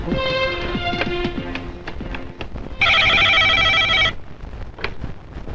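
A telephone rings in a tense Bangla action film scene, a single loud electronic ring burst of about a second rising above background music and scattered effects.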